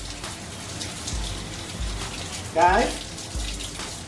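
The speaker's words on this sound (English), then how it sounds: "Let me rinse this off." Running tap water splashes softly as something is rinsed while making a crispy chicken sandwich, a faint steady wash with one brief louder gush near the end and a short spoken word.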